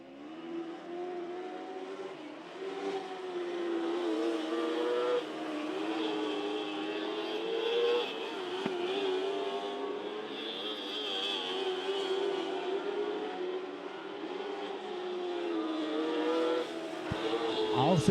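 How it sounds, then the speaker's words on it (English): 1200 mini sprint race cars running laps on a racetrack, engines droning and revving continuously as the pack circles, loud and sustained with a commentator talking over the roar. "Second group of cars has made their way to the racetrack."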